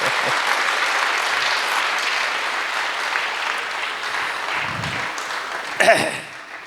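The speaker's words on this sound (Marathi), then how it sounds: "टाळ्या वाजवा, टाळ्या" An audience claps together in a large hall at a live program, a steady wash of applause lasting several seconds, thinning out near the end with a brief louder burst.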